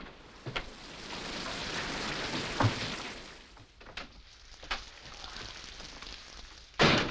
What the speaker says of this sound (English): Oh, you were right, Daddy. It did rain.